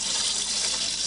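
Water rushes steadily through a RainSoft Q2 series water softener, a constant close hiss and gush with no breaks and no voices.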